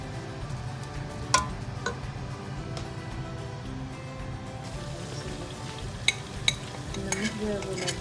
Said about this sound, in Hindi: मैं प्याज काट के नॉर्मल भून लेती हूँ